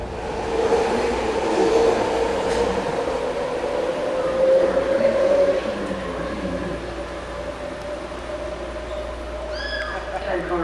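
A BART subway train at a San Francisco station gives a steady low rumble and hum, with a tonal whine that rises and falls near the platform throughout. Faint chirping tones come in near the end.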